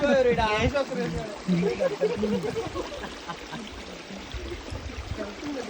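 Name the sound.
flowing stream water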